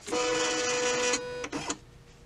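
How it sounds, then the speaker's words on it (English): A Brother embroidery unit's carriage motor whirs, driving the carriage along with a buzzing, tonal hum, pausing briefly before a short second movement, then stopping. "The carriage of the embroider unit will move."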